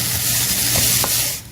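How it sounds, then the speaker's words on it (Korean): Vegetables stir-fried quickly over high heat in a pan give a dense, loud, steady hiss and sizzle, with a couple of brief scraping stirs, tapering off at the end. "센 불에서 빠르게 볶는다."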